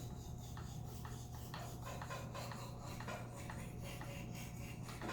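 Knife steel being scrubbed on a 1K sharpening stone, a continuous gritty rasping with quick repeated back-and-forth strokes, close and steady, with a low hum underneath.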